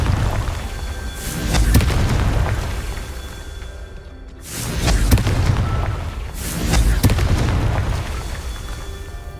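Fiery Confringo spell explosions from the video game Hogwarts Legacy, three loud broadband booms that bloom and roll off, spaced a few seconds apart over a dense, rumbling game soundscape with no talking.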